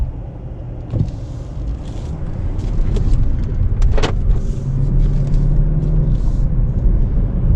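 A BMW 750Li twin turbo 7 Series is driven, heard from inside the cabin as a low, steady engine and road rumble that swells slightly after the first seconds, with a couple of faint interior clicks.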